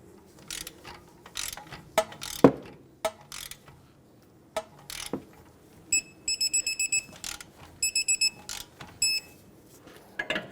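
Ratchet snugging the tie rod mounting nut on a 2008-2020 Dodge Grand Caravan, heard as repeated bursts of rapid clicking between metallic clanks and knocks, close and fairly loud.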